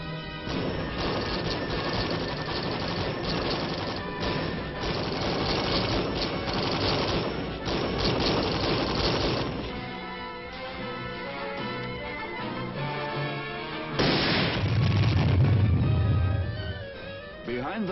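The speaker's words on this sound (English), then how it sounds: "Behind the metal screen of supporting fire, Lieutenant Hadley leads the rest of the platoon to close with the enemy" A rifle platoon in the attack lays down supporting gunfire: sustained bursts of rifle and machine-gun fire with heavier crashes later, heard through an old, band-limited late-1950s military film soundtrack.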